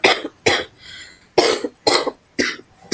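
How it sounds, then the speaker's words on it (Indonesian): A person coughs in several sharp bursts, about five close-miked coughs with short pauses between them, with no talk. "maaf batuk"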